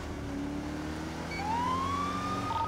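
Police car siren in the GTA LSPDFR police game, a rising wail that sweeps upward and holds over steady engine and road rumble, moderately loud, with no talking.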